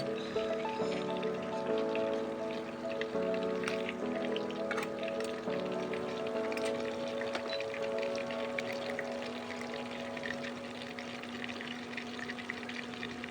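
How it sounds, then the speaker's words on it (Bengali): Unboiled chicken pieces fry in a pan over low heat, giving a steady, soft sizzle and crackle that runs throughout beneath background music. "উল্টে পাল্টে ভালো করে ভাজতে হবে"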